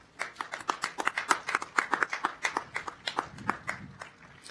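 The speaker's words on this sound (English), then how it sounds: "Let's give yourself a round of applause." Graduates at a university commencement applauding themselves, sparse individual hand claps in an uneven rhythm, fairly close and clear, without a dense crowd roar behind them.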